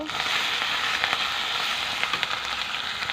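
Ground spices (salt, turmeric, dry chilli and cumin powder) being stirred and fried in a pan make a dense, steady sizzle with crackling close by.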